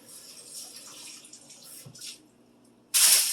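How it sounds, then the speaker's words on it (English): Water splashes lightly onto a cookie sheet in a kitchen, soft trickling and faint drips, then a sudden louder rush of tap water at the end, close by. "I'm going to wet my cookie sheet with a little bit of water."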